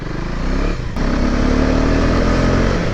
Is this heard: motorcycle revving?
yes